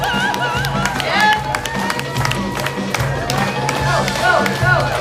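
Crowd at a roller derby match cheering, yelling and clapping, a loud dense roar with whoops rising over rhythmic thumping, with voices shouting nearby.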